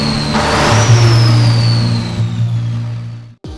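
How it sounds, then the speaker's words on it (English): Scania 14-liter V8 truck engine revving, a loud, deep throbbing burble that swells and holds, then drops away abruptly near the end before catching again. "there was also the unique sound of the characteristic V8"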